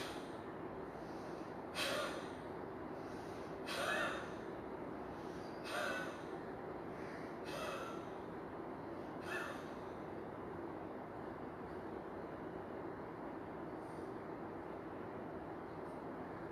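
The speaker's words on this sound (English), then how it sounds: "while you are exhaling and you are completing your cycle of Kapalbhati" Forceful Kapalbhati exhalations during pranayama practice, sharp nasal bursts roughly every two seconds, loud at first and fading to fainter puffs later, heard alone over a steady low background.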